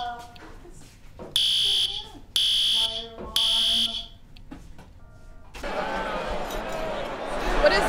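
A fire alarm blares in three loud, steady bursts of about half a second each, separated by short gaps, followed by a burst of noisy crowd commotion toward the end.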